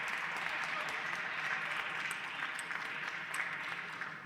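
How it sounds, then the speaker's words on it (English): Chinese supporters in the crowd at the 2017 Austrian Open women's doubles table tennis final make a steady, distant wash of cheering and clapping, fairly faint and continuous without clear peaks. "We haven't heard so much cheering from the crowd"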